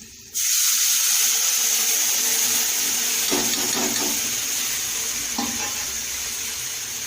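Cooked eggplant added to a hot tempering with turmeric, a sudden loud sizzle bursting in after a brief quiet start, then holding steady with a few stirring scrapes.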